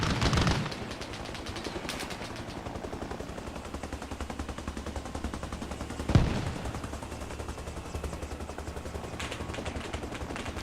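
Sustained rapid automatic gunfire from a BTR armored vehicle in a military video game, a dense steady stream of shots with a louder burst at the start and another sharp report midway.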